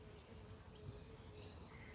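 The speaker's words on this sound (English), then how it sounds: "That's a little teddy bear bumblebee." A teddy bear bumblebee buzzes nearby as a faint, steady drone, half buried in outdoor background hiss, with no voices.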